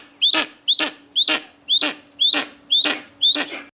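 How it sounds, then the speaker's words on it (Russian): A steppe eagle repeats seven short, sharp squeaks with a grunting edge, evenly spaced at about half-second intervals, loud and close over a faint steady background hum. "Короткий писк с прихрюкиванием. Такие необычные звуки издает краснокнижный степной орел."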